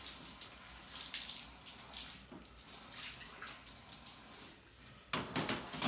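Shower water runs steadily while a Goldendoodle is washed after playing in snow. It is a continuous close hiss of spray, with a few splashy surges and a louder burst near the end.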